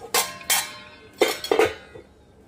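Utensil scraping and clinking against a cooking pot while food is stirred, a few sharp metallic knocks spaced irregularly, fairly close and clear with no talk over them.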